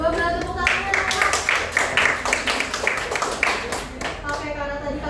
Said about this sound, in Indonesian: Boleh tepuk tangan Kak?